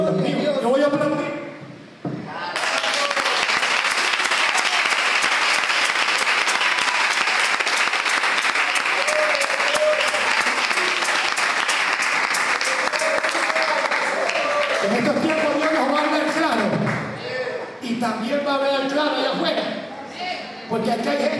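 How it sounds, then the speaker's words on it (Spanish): A church congregation at an evangelical service breaks into loud, sustained applause that swells abruptly and holds steady for over ten seconds, then thins out as voices and talk return near the end. "Dios mío, yo voy a aplaudir."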